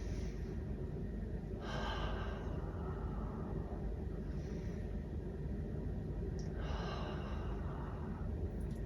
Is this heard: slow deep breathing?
yes